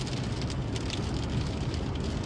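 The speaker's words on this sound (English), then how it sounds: "41 degrees and raining pretty good" Steady rain and road noise while driving north on Interstate 35 in Ohio at 41 degrees, a continuous broadband wash with low rumble throughout, loud and unbroken.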